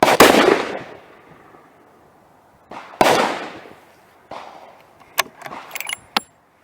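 Loud rifle shots from a 7mm Remington Magnum at an outdoor range: two sharp blasts about three seconds apart, each with a long decaying echo, then a few fainter clicks and metallic rattles.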